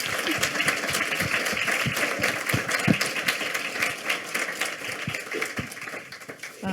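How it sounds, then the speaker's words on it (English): A room of attendees at a community foundation event gives a round of applause for Karen: continuous, moderately loud clapping that carries on for several seconds, with faint murmuring mixed in. "if we could have a round of applause for Karen today"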